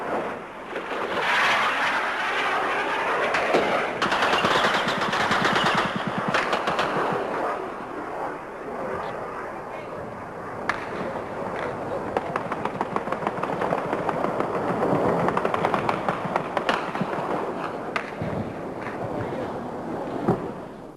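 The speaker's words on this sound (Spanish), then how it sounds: "Contestan nuestras baterías antiaéreas y se ve el refulgir de sus disparos en el aire." Bursts of distant anti-aircraft gunfire and booming blasts from the Falklands War over a continuous rumbling roar, loud for long stretches with rapid crackling reports throughout.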